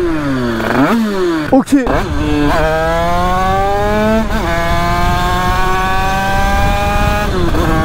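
Motorcycle engine cruising in sixth gear at about 85 km/h at half throttle against a headwind, a steady droning hum with smooth rising harmonics, a brief dip near the start, and a short spoken word over it.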